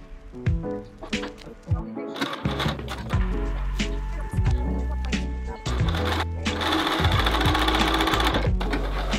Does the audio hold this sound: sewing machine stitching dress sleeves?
yes